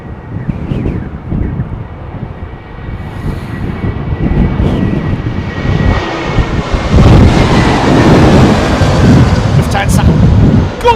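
An airliner on approach to land at Heathrow Airport during a storm, its jet engine roar rising and growing loud as it nears, with heavy wind buffeting the microphone and people talking beneath.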